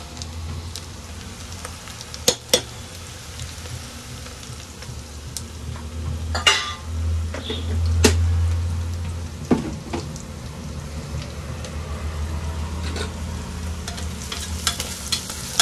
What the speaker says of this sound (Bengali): এটা একটুখানি পেঁয়াজটা ভালো মতো ভাজা ভাজা হবে, তখন মাংসটা দেবো।